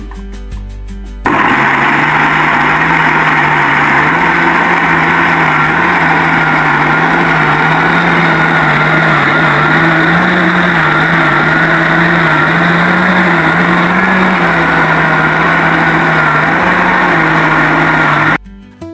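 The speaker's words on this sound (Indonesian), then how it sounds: "Sekarang kita haluskan ya Bun yang cabai rawit tadi" Electric grinder pulverising bird's eye chilies and spices, starting abruptly into a loud steady whirring motor drone with a wavering low hum, then cutting off near the end.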